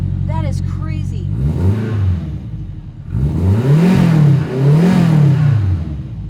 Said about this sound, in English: It sounds a bit like a Subaru Flat 4